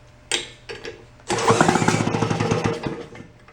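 A salvaged generator engine from a town dump, given choke, coughs in a couple of sharp bursts, then catches into a loud, rough, pulsing sputter that fades unevenly, close up, with no talk.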